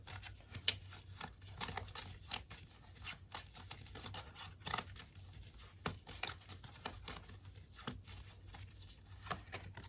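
Initiative cards for a fantasy board game being shuffled at a table, a run of quick papery riffles and soft slaps repeating in bursts, close and fairly quiet against light room hiss.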